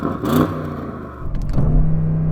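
Audi RS6 Performance engine revving, a sharp blip early then a second rising rev swelling into a loud, steady low drone, close and without speech.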